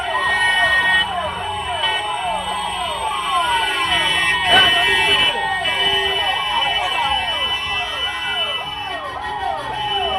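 An ambulance siren wails in a continuous rising-and-falling cycle, loud and close, as the vehicle pushes through a crowd, with voices of people around it and a brief burst of noise midway.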